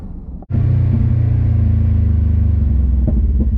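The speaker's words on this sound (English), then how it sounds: "I'm going to get in the Expedition now and drive that one." A Ford Expedition SUV engine catches after a brief softer sound and settles into a loud, steady low rumble heard from close by.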